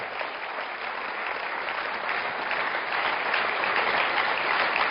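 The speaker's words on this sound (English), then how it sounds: "Round of applause for Kareem Abdul-Jabbar." Sustained audience applause for Kareem Abdul-Jabbar at a panel discussion on sports and racism, a steady, dense wash of many hands clapping that holds loud and even throughout.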